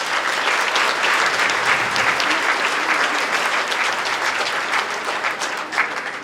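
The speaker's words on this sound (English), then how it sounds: "Please give a round of applause." Audience applauding at a Christmas charity gala, a steady dense wash of clapping from a large crowd that holds evenly for several seconds and tapers only slightly at the end.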